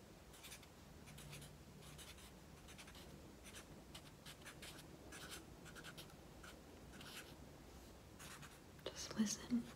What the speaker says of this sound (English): The noise of my marker